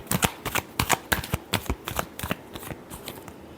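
Tarot cards are shuffled by hand, close up, in a quick series of crisp riffling bursts that come in an uneven rhythm and fade slightly toward the end.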